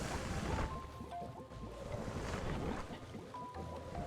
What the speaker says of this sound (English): There's the little water sprinkler.